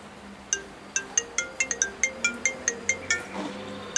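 A phone ringtone plays a rapid run of about a dozen bright, evenly spaced electronic chimes that repeat in a quick melodic pattern, clear and close in a quiet room.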